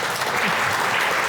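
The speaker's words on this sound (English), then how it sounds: "Give her a round of applause." Audience applause at a live seminar event, a dense burst of clapping from a crowd filling the short moment without a break.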